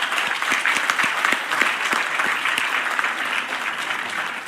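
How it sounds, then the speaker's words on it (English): An audience claps loudly for Rama Devi at an ALEAP international conference in Vijayawada, a dense, steady burst of many hands that holds strong throughout. "A big clap to Rama Devi Garu."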